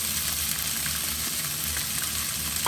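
Corn kernels searing in hot coconut oil in a pan, a steady close crackling sizzle with faint stirring clicks, continuous and without talking.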